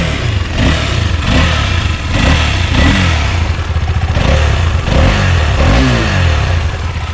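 A BMW G310GS motorcycle engine runs loud and close, with repeated throttle blips that rise and fall in pitch over a rough, clattery idle, several revs in quick succession and no voices.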